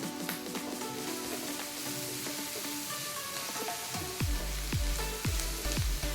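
Ingredients for a paneer naan stuffing sauté in a pan with a continuous, moderately loud sizzle, joined toward the end by several sharp, spaced knocks of a spoon against the pan.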